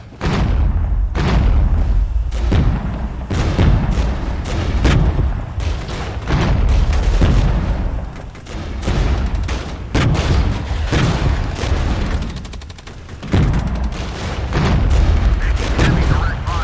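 Artillery fire in the wargame Regiments: repeated heavy booms and thudding blasts at irregular intervals, loud and dense, with overlapping gunfire rumble throughout.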